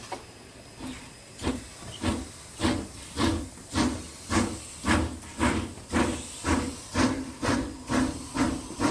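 A model Clan MacDonald steam locomotive on a DC controller pulls away with 14 coaches, giving a regular chuff of hissing steam bursts that gently gathers pace, fairly quiet and heard alone.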